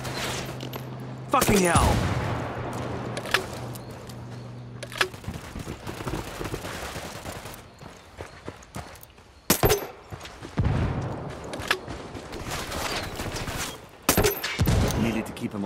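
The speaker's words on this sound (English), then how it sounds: "Opening fire." Gunfire in Ghost Recon Wildlands comes as loud rapid bursts and single shots, scattered irregularly, with a man swearing and game voices around them.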